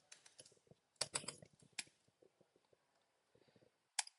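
Code is typed on a computer keyboard in irregular bursts of quick, close keystrokes, with a loud cluster of clacks near the start and scattered taps after, quiet between and no talking.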